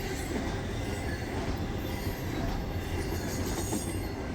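A freight train led by an SD60 diesel locomotive rumbles past close by with a dense roar of wheels and rails, steady throughout, with faint squeals over the noise.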